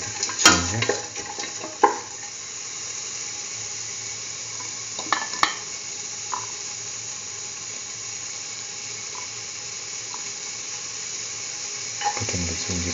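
Onion, garlic and ginger fry in a pan for a curried chayote and bell pepper stew, giving a steady soft sizzle with a few sharp clinks and stirring scrapes near the start and end.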